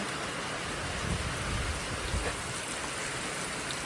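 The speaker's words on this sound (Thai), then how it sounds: "บรรยากาศหนาฝน" Steady, dense rain hisses on surfaces while a low, soft rumble of thunder rolls underneath; no voices.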